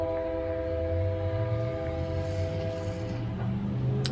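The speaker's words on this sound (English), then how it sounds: "sorry about the train." A passing train rumbles steadily with sustained horn-like tonal lines over low rolling noise, fairly loud and continuous throughout, with no talking.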